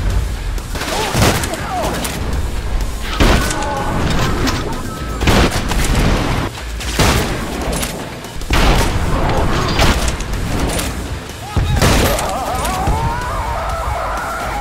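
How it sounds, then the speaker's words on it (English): Shotgun fire in the first-person shooter Trepang2: a series of loud, booming blasts about every one to two seconds, each followed by clattering action and debris, with game effects filling the gaps. "This is the best shotgun ever created in any game."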